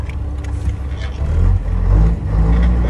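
A truck accelerating under load, its engine rumbling deep and loud while a rising turbocharger whine builds over the roar, close by and continuous.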